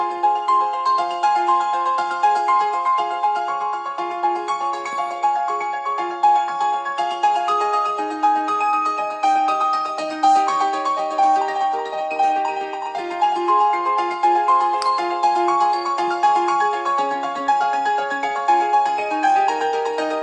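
Piano theme music with sustained, layered chords and melody lines, playing steadily at an even, moderate loudness for the whole stretch with no talking.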